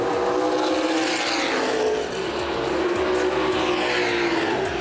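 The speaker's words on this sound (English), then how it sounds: "Dean Cook in car number 8 takes his car pit side." Loud, steady roar of late model sportsman race cars on the oval at Winchester Speedway, droning past continuously with a constant engine whine and no pauses.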